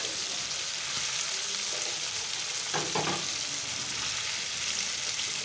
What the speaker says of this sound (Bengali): হাই লেভেলে সব সয়াবিনগুলো আমরা নুন হলুদ দিয়ে ভেজে নেব।